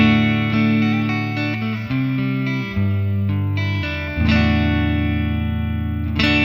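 Clean electric guitar played on the neck pickup through an amp with a touch of reverb, sustained chords ringing out one after another, loud and alone with no talk.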